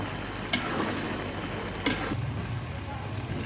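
A spoon stirs carrot halwa made with milk and ghee in a pan: a steady soft scraping and sizzle runs throughout, with two sharper clinks of the spoon against the pan.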